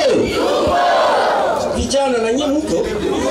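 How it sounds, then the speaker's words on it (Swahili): Rally crowd ululating and cheering together, a dense, loud, high warbling wall of voices that swells and holds near the listener throughout. "Mupigie viongozi vigelegele."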